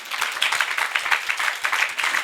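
Conference audience in a lecture hall giving a short burst of steady, dense clapping, fairly loud and sustained throughout with no voices on top.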